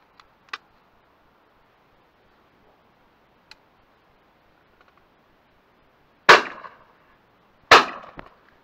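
Two sharp shotgun blasts fired at pigeons over decoys in September, each a loud crack with a short decaying tail, spaced about a second and a half apart after a few faint ticks.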